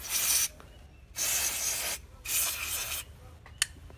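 Carburetor cleaning solution sprayed from an aerosol can in three long hissing bursts, each about a second, with short gaps and a sharp click near the end; close and fairly loud, no voices.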